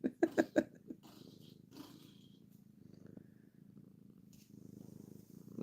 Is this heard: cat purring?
yes